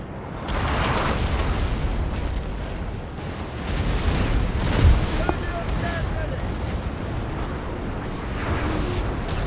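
Artillery and musket fire crackle and boom across a Napoleon: Total War battlefield, a steady rumbling barrage with a heavier thump midway, heard at a distance under a voice.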